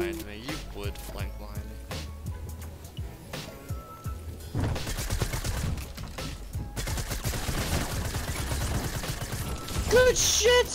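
Tommy gun fire sprays in rapid bursts during a Fortnite match, with dense, clattering shots and mechanical clicks close up.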